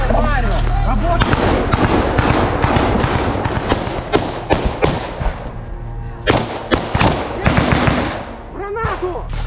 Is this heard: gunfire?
yes